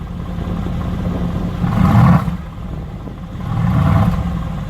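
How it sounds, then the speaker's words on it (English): A Mercedes-AMG GT S sports car engine idles, then revs twice in short bursts about two seconds apart, close and loud, settling back to idle between them. "Let's give it a little rev."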